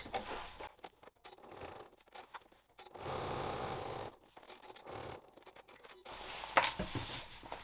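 A sewing machine stitches along the side seam of a knit beanie in short bursts of rapid mechanical whirring, stopping and starting between runs.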